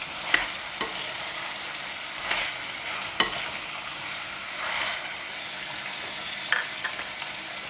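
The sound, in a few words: chicken and mushroom stir-frying in claypot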